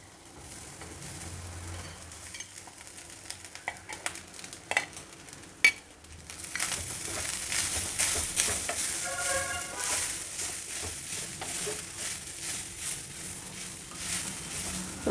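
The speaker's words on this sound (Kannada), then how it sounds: "ಈಗ ಉರಿ ಕಡಿಮೆ ಇಟ್ಕೊಂಡು ಅನ್ನ ಹಾಕಿ ಇದರಲ್ಲಿ ಮಿಕ್ಸ್ ಮಾಡೋಣ" Rice being stirred and fried over low heat with curry leaf paste in a pan, starting with scattered scrapes and taps, then settling into a steady sizzle with continuous stirring.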